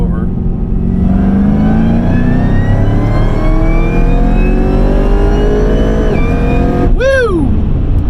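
Cadillac CTS-V Wagon accelerating hard on a street run, its engine note climbing steadily and loud throughout, with a quick slap-shift break near the end before the revs sweep back up.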